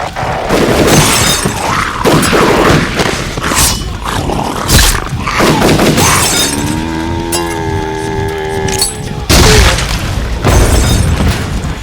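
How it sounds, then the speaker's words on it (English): Glass doors kicked in and smashed open during a zombie fight, a staged audio-drama effect: loud crashing shatters and booming impacts with tinkling debris, set among other loud action effects and music. "I smashed through the glass doors with my foot"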